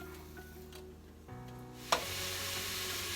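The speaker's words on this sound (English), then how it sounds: "So we have the celery, onions, and the minced garlic with the olive oil been cooking for a while." Celery, onions and minced garlic cook in olive oil in a pot for chicken bone broth, giving a steady soft sizzle with a sharp clink midway, after which the frying noise grows a little louder and fuller.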